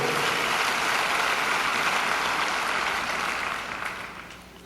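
An audience at a KCPS school convocation applauds loudly and evenly, a dense wash of clapping that holds steady before fading away over the last second or two.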